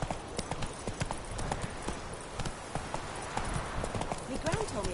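Roach, a horse in the video game The Witcher 3, clip-clops along at a steady trot with a brief whinny, her hooves close and rhythmic under intermittent talk.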